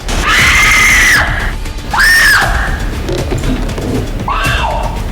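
A woman in a Hindi TV drama screams on seeing a body, three loud shrill cries in a row, the first long and sustained, then two shorter ones, over a noisy background.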